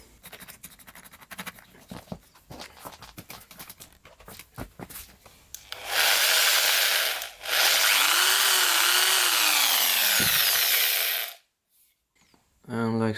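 A 35mm Forstner bit running at 1600 RPM bores into wood for a concealed cabinet hinge: scattered handling clicks, then a loud sustained grinding drill roar, a short break, more drilling with a falling whine, and sudden stop.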